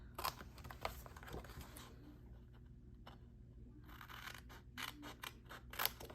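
Scissors snip repeatedly through fabric edges to trim off skinny rectangle strips along a quilt block, a run of crisp close cuts with brief pauses between, no talking.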